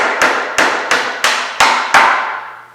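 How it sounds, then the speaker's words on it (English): Six sharp metallic taps from a brass-tipped Motion Pro shock punch striking a pivot bolt on a Yamaha YZ electric motocross conversion, evenly spaced about a third of a second apart, close and clear with a short ring after each hit. "So now we're just going to use our Motion Pro shock punch with the brass tip so we don't damage our pivot bolt in any way."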